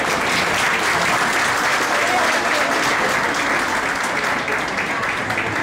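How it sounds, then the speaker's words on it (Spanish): Dense, steady applause from a large audience at a German community association gathering, loud and continuous throughout with no gaps or talking over it. "Parece que aplaudieron hasta que los que no entienden el idioma."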